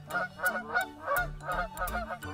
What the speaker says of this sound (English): that goose over there apparently lays golden eggs